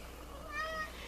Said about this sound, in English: No, get back out on the porch, cat.